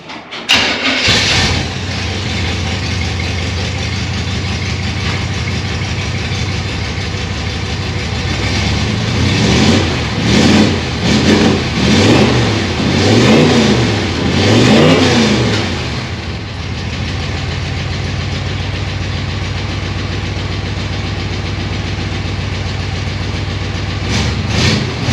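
The big old V8 engine of a 1957 Chevy Bel Air cranks and catches, idles roughly, then gets a series of quick throttle blips before dropping back to a loud, steady idle.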